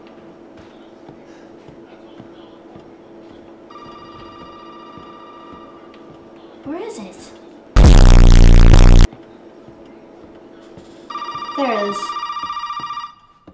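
Old telephone in the Resident Evil 7 video game rings in clear repeated bursts, loud and close, with a sharp loud bang in the middle and a brief spoken word over the ringing.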